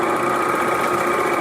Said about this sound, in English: BSN, I am serging